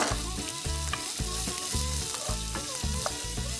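Thinly sliced onion fries with curry leaves and slit green chilies in hot oil for South Indian coconut rice, a loud steady sizzle with regular stirring scrapes about every half second.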